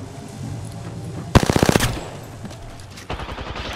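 Apex Legends gunfire rings out in a rapid automatic burst of about a dozen sharp shots, followed later by a second quicker burst, loud and close over faint game background.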